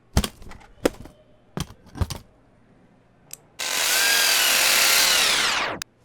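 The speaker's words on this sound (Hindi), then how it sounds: "जहाँ पर मैंने मार्क किया है वहाँ पर अच्छे से ड्रिल कर दो" A power drill runs steadily for about two seconds at a marked spot, loud and close. Several sharp taps and knocks come before it.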